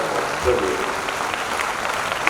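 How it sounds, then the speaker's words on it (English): Audience applause fills a seminar room in Visakhapatnam, India, steady clapping from many hands welcoming a doctor, with a brief spoken word near the start. "give a big round of applause"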